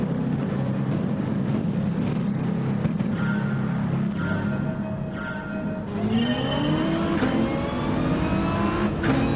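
A car engine in Gran Turismo 7 revs hard and bounces against the rev limiter during a daily race. The roar is loud and continuous, the pitch climbs and stutters, with no talking over it.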